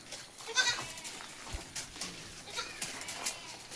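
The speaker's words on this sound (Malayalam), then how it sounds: "ഇതെല്ലാം വളർത്താൻ പറ്റിയ ആടും കുട്ടികളോ." Goats and young kids bleat in short, scattered calls over a few seconds, some close and some farther off, against quiet farm background noise.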